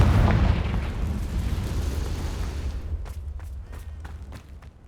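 A Confringo fire spell bursts in the Hogwarts Legacy video game: a loud, deep explosive boom that rumbles and slowly fades, followed by several sharp crackling pops and debris clicks.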